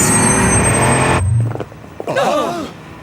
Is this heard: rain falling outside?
no